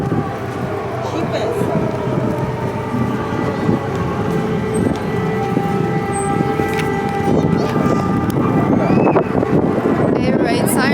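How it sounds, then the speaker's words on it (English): Air-raid warning siren wailing steadily in war-torn Ukraine, heard from a basement museum shelter, a continuous loud drone with shifting tones throughout. "siren just finished"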